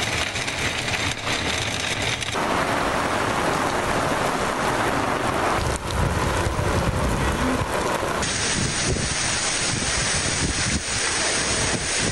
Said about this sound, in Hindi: रावलपिंडी और इस्लामाबाद में तेज़ हवाओं के साथ तूफानी बारिश